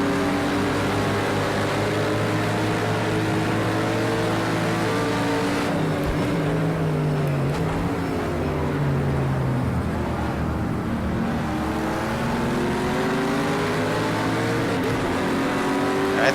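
A BMW race car engine in Project Cars 2, from the 2018 BMW Endurance Challenge, drones loudly and continuously, with rising and falling revs as gears shift and other cars roar nearby.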